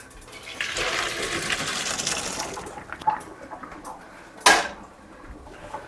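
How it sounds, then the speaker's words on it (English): Cooked pasta noodles poured into a strainer, a rushing gush of water lasting a couple of seconds, followed by clattering pot and metal knocks, close and loud with no talking. "Alright, our noodles are done, so we're going to drain them."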